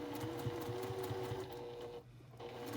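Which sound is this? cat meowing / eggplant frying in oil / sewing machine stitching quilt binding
sewing machine stitching quilt binding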